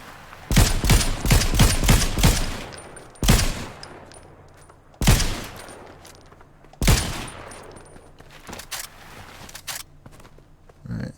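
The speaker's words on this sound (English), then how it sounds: "we'll go 3 shots with the DMR" DMR rifle fire in a first-person shooter video game while strafing, an opening rapid cluster of sharp loud shots then spaced single and paired cracks, close and punchy with no talking.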